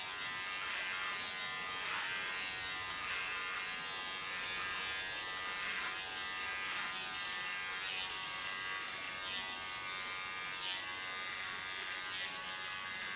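Electric hair clipper trimming up a neckline during a family haircut, a steady close buzz running unbroken with slight flickers as the blades pass through hair, no talk over it.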